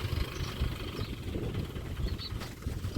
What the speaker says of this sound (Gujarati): લાખા બાપુનું ટ્રેક્ટર આવે છે